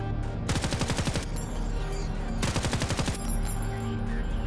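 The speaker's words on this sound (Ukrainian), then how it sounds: "Це була черга." Two rapid bursts of automatic fire ring out from a weapon at a shooting range in the Project Quarantine game, each a dense, loud string of shots lasting about a second, against steady background hum.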